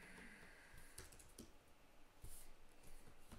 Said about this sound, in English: Typing on this laptop.